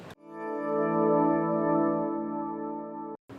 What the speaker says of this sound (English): And we have a riser towards the end.